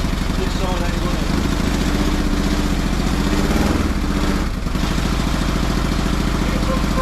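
A home-built adventure motorcycle's engine runs steadily and loudly up close, with a continuous rumbling drone, a brief dip partway through, and voices talking over it.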